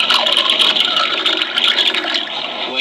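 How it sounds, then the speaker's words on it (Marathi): Water is poured into a glass in a classroom science demonstration, a continuous splashing, trickling rush that stays loud and even for a few seconds with no talking. "काचेच्या ग्लास मध्ये पाणी घाल"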